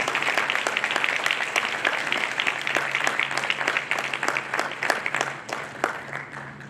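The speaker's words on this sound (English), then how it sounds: "let's give a round of applause for our College of Health and Human Services MHC graduates" Steady applause from a graduation reception audience honoring College of Health and Human Services honors college graduates, dense and sustained clapping throughout, tapering slightly near the end.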